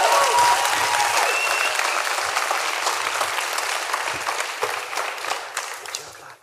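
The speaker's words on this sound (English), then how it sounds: "Give them a big round of applause" Conference audience at a recovery event applauding, a dense, sustained round of clapping close by that slowly thins toward the end.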